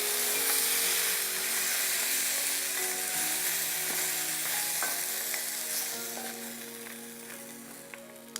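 RedClaw crayfish, marinated and spiced, sizzle on a grill in a loud, steady hiss that fades slightly toward the end, heard alone without speech.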